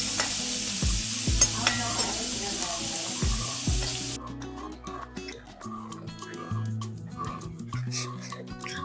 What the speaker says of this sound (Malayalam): ഈ ചെറിയ ഉള്ളി മൂത്ത് വരുമ്പോഴത്തേക്കും അപ്പോൾ നല്ലപോലെ മൂപ്പിച്ചെടുക്കാം നമുക്ക്